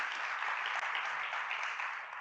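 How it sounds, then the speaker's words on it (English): Audience applause for debaters at a high-level climate event, a dense, even patter of clapping that holds steady and eases slightly toward the end, heard without talk. "Another round of applause for the debaters"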